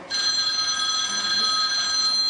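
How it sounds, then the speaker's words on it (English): A mobile phone rings with a steady electronic tone that repeats without a break, fairly clear and close, indoors during an exercise workout. "I am so ignoring my phone right now"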